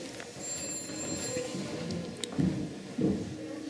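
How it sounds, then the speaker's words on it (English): A telephone sound effect rings in a castle room as a thin, continuous electronic ring, with room noise and a couple of dull thumps or low voices underneath. "That's a sound effect, that telephone, is it?"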